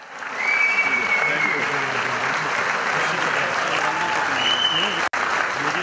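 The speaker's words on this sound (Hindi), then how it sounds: "पेशावर यूनिवर्सिटी का कॉन्वोकेशन हॉल उस वक्त तालियों से गूंज उठा" Applause fills a university convocation hall in Peshawar as a library science gold medalist comes up for her medal, a dense sustained wash of clapping running steady throughout, with a brief cutout near the end.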